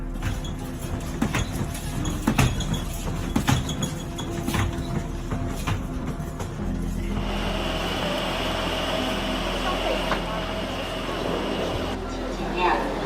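A train travelling at reduced speed rumbles along with rhythmic clacks over the rails, then settles into a steadier hum with a faint tone, with voices heard over it.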